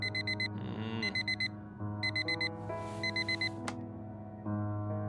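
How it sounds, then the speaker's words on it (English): A bright, rapid electronic alarm clock beep in the video game Fragments of Him repeats in quick bursts of pulses with short gaps, heard under soft game music and a brief swishing sound. "The same alarm tone that Harry can sleep through"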